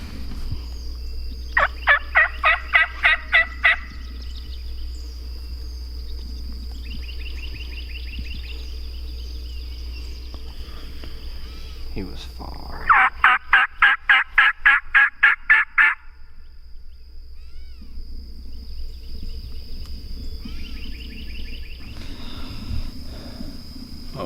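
An Osceola wild turkey in Florida gobbles in two loud rattling bursts, the second closer and longer, separated by quieter calling and stretches of still background.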